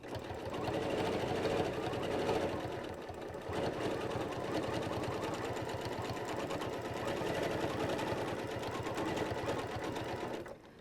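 A longarm quilting machine with a stitch regulator hums smoothly as it stitches along a chalk reference line, a steady close whirr with a brief dip partway through.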